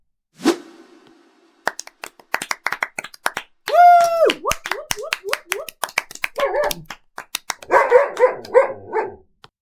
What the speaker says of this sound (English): Who brought that dog?